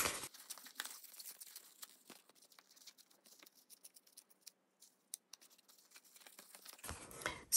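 Paper is torn by hand for a junk journal page, giving faint, intermittent crinkling and ripping bursts near the mic, alone and without talk.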